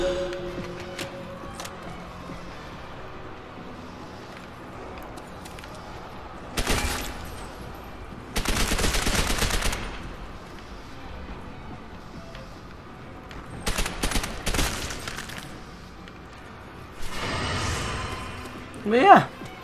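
Bursts of gunfire in Call of Duty: World at War Zombies, several separate volleys of rapid shots scattered through a quieter stretch, moderately loud against low background game noise.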